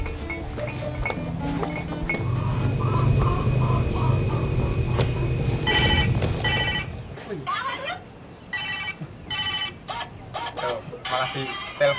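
A telephone rings in a series of repeated electronic bursts, following a loud stretch of mixed background noise, fairly close and clear.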